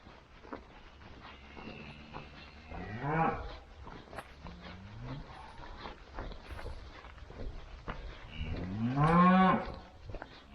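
Cow lowing loudly on farmland near Warton Crag, with two long, rising-and-falling moos, one around the middle and a louder one near the end, over quiet outdoor background.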